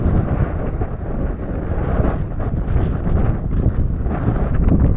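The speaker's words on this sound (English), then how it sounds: "the wind is picking up for some reason" Steady, loud wind buffeting a microphone outdoors beside a lake, a continuous low rumble and roar that fills the whole stretch with no speech.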